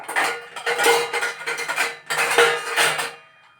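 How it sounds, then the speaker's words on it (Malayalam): A pressure cooker lid being shut over a buffalo breastbone curry, giving a run of metallic clinks, scrapes and rattles close by, in a few busy bursts with a short pause midway. "കുക്കർ ഞാൻ അടയ്ക്കുവാണ്."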